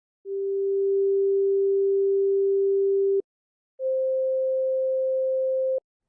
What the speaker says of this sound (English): here are the third and fourth harmonics